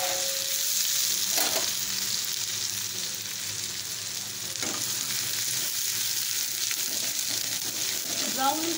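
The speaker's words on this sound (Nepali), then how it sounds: "यो काटेको जुन चाहिँ प्याज छ त्यसलाई हालेँ हल्का ब्राउन कलर आइन्छ मलाई मजाले फ्राई गर्नेछु" Chopped onion fries in hot oil over a high gas flame with a steady, loud sizzle and occasional stirring scrapes, heard close up.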